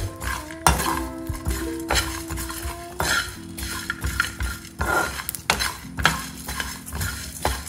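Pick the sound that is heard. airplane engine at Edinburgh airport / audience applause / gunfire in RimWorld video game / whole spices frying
whole spices frying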